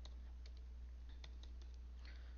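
Quick, light keystrokes tap on a computer keyboard in short irregular bursts, fairly quiet over a steady low electrical hum.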